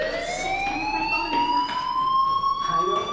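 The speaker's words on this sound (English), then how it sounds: "Hey, do you hear that fire alarm?" A fire alarm blares in the video game Life is Strange, a steady rising electronic whine that sounds like a siren, loud and continuous throughout, with faint background movement beneath it.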